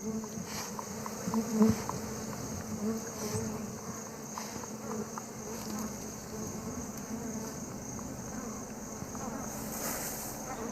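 Wild bees drone and buzz steadily around a honey hive in open country in the Niassa region, a dense continuous hum close by, with faint wind underneath.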